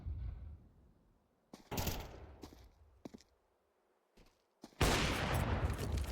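Bursts of rifle fire in Counter-Strike 2 on the Dust map during a competitive match: a faint rumble, then several sharp separated shots and short volleys, ending in a loud sustained burst.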